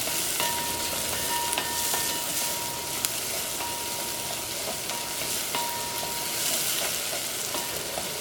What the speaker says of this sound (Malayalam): ക്യാപ്സിക്കവും ഇതിനകത്തിട്ട് നന്നായിട്ടൊന്ന് മിക്സ് ചെയ്യാം